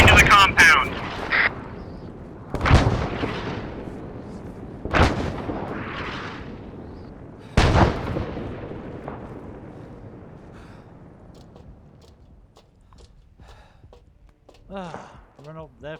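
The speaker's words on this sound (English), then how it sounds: "Artillery is hitting the north end of the compound." Artillery shells slam into the north end of a compound in a military video game: four heavy, separate booms with long rumbling decays, spaced a few seconds apart, then a quieter stretch with voices near the end.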